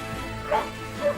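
A dog in a TV comedy scene gives two short barks or yips, brief and mid-loud, over low background noise.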